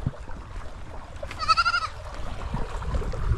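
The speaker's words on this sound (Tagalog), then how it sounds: "Katuwa ng mga kambing oh." Goats bleat in a short wavering burst, close and fairly loud, over a steady outdoor background rumble with faint splashing.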